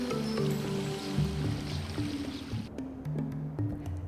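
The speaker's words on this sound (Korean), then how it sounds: "요새 앞을 흐르는 와디" A wadi stream flows past a fortress in Oman, a soft continuous trickle with low tonal music playing over it throughout.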